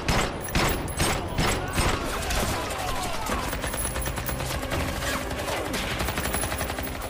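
Rapid bursts of gunfire in a crime action film shootout, loud and dense with repeated sharp cracks layered over a busy score and effects, continuing throughout.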